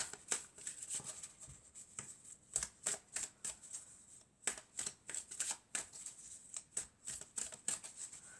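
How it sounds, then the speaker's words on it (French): Tarot cards are shuffled and drawn in a quiet room, giving a steady run of soft riffling and flicking bursts with sharp slaps as single cards are pulled and laid down, close and alone with no talk. "on va prendre quelques cartes de la triade et on va voir ce que ça nous dit"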